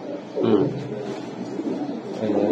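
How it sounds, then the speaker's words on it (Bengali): High-flying Giribaj racing pigeons in Old Dhaka coo softly nearby, a low murmuring call rising briefly and recurring toward the end. "আমাদের লালবাগের কবুতর খুব ভালো কবুতর"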